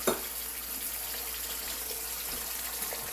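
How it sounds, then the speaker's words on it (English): Eggs cooking over easy in butter in a skillet give off a steady, soft sizzling hiss, constant throughout with a faint tap at the start. "So now we're going to add our eggs."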